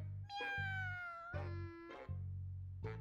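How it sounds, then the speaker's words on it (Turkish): A cat meows several times, one long drawn-out cry followed by shorter calls, close and clear over a low background hum. "Kedi mi miyavlıyor?"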